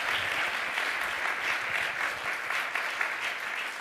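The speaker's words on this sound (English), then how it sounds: "give a big round of applause to today's participants" Sustained audience applause closing a forum, an even, dense patter of many hands clapping throughout at steady loudness.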